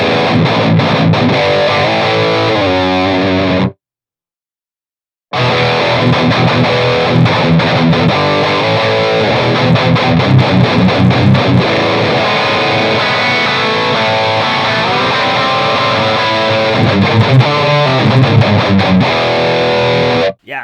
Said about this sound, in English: I cranked the gain all the way up almost, and it sounds really cool, controlled, and sounds nice